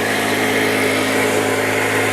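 A Trafalgar paddock vacuum's small engine runs flat out at full revs, a steady loud drone with no letup.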